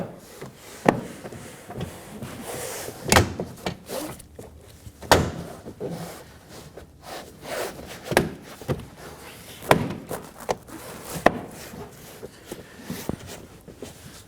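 Repeated sharp snaps and knocks, close and irregular, as plastic clips on a 2020s Toyota Corolla rear door panel are pressed into place one after another.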